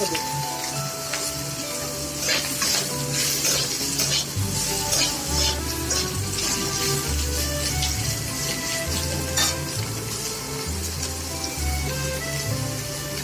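Rice with minced meat stirred and fried in hot oil in a pan gives a loud, steady sizzle with scraping stir strokes throughout, over a low background hum.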